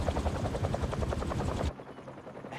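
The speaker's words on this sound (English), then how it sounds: "helicopter's blades." Helicopter rotor blades in Marvel's Spider-Man 2 on PS5 give a loud, rapid pulsing chop with a heavy low thump that suddenly drops to a quieter, thinner beat partway through.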